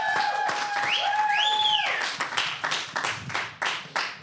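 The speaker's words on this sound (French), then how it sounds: "Il mérite une immense applaudissement." Live audience at a French-language podcast taping claps and cheers, with whistles over a dense burst of applause that thins into scattered, separate claps toward the end.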